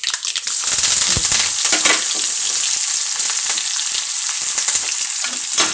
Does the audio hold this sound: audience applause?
no